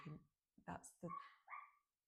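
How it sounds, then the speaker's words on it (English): A sleeping dog has a nightmare, letting out faint muffled whimpers and soft yips in four short bursts, heard quietly in the background. "That's the doggy having a little nightmare"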